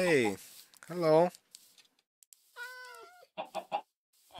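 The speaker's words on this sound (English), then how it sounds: "I hear a cat. Where is it?" A cat in the Minecraft video game gives two clear, close meows at the start, followed by quieter chicken-like clucks and small game sounds with near-silence between them.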